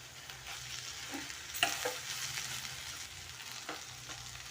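Okra and tomato fry cooking in a pan, with a steady soft sizzle under a few stirring scrapes and clatters as the vegetables are mixed, close and with no talking.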